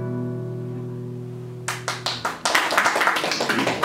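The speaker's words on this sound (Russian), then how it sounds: "Да, после песен можете хлопать." An audience claps after a song at a poetry and music evening. The applause breaks out in a few separate claps over a fading sustained tone, then swells into steady, close, lively clapping.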